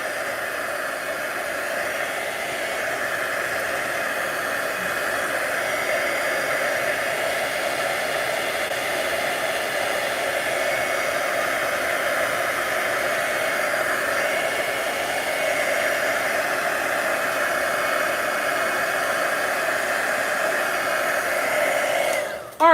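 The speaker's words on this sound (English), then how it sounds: "If it starts to buckle, I'm going to flip it over, and I'll heat it from the other side." Heat tool blowing steadily on a stamped paper card for handmade card crafting, a continuous loud airy whoosh lasting throughout with no talking, cutting off abruptly at the very end.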